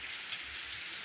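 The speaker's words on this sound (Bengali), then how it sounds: "বৃষ্টি আরম্ভ হয়ে গেছে।" Steady rain falls in West Medinipur, Kharagpur, a continuous even hiss of drops on surfaces with no voices and no pauses across the short stretch.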